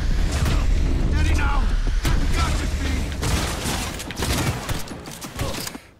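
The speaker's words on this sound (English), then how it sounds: "this shotgun is fucking garbage" Shotgun blasts from a Cyberpunk 2077 fight punch out in a close, irregular series amid mechanical clatter and rumbling, with a voice talking over the action.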